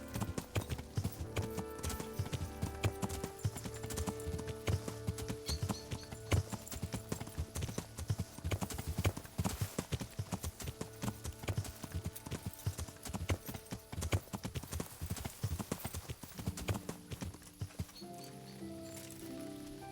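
Horse hooves clip-clop steadily in the medieval game Kingdom Come: Deliverance, a close, rhythmic clatter of hoofbeats over game music that runs for most of the stretch before stopping near the end.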